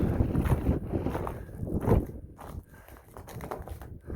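Wind buffets a microphone on an icy mountaintop along the Appalachian Trail, heavy gusting rumbles that surge and ease unevenly, loudest in the first two seconds, with no voices.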